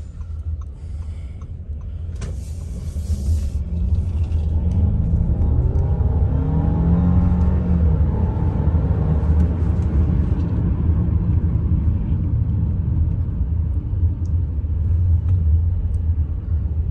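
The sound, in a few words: Audi A6 sedan driving in sports mode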